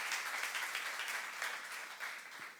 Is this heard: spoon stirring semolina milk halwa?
no